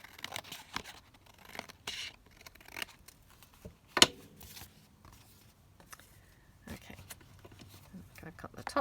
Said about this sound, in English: I don't think I've cut that very straight